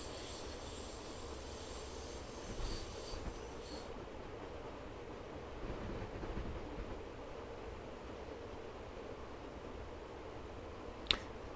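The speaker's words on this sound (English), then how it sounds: "That's definitely an uphill bit now because we slowed down a bit too much there." A train in Train Simulator 2018 climbs a steep gradient on the Munich to Garmisch line, a steady low rumble of wheels and motor running continuously, with a sharp brief click near the end and no talk.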